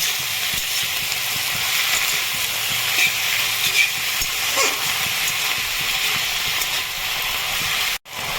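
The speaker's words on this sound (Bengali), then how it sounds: "ভালো করে লবণটা মিক্স করে নেব।" Salt being stirred into food frying in a pan seasoned with turmeric, a steady close sizzle with scraping clicks of the spoon against the pan, running continuously until a sharp cut near the end.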